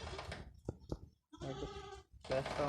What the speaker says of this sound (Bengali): এগুলো সব বাচ্চা ছাগল